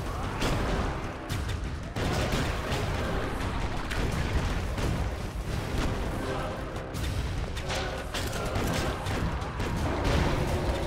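Rapid gunfire and booming blasts from the run-and-gun video game Broforce crackle almost nonstop, loud and dense with bursts and explosions layered over one another.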